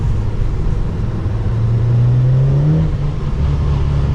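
A tuned Audi with an APR stage 4 setup accelerating hard, its engine drone rising steadily in pitch from inside the cabin as a loud, continuous rumble.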